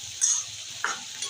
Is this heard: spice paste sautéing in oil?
yes